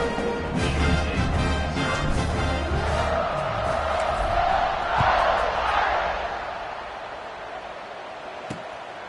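Home crowd noise roaring in a College Football 26 game, a dense continuous wash of cheering that swells mid-clip and then eases, with no talk over it.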